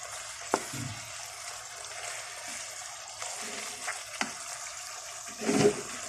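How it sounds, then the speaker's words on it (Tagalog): Saluyot jute leaves cooking in a pot are stirred, giving a faint simmering hiss with a few scattered scrapes and clunks, the loudest near the end. "Hahaluin natin si saluyot."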